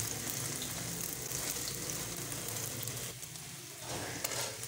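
Egg and cheese toast sizzles steadily in a hot pan, a dense, even frying hiss that continues close-up throughout, dipping briefly near the end, with no talking.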